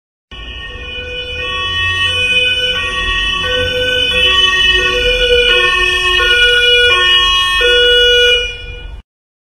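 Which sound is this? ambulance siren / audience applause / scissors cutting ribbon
ambulance siren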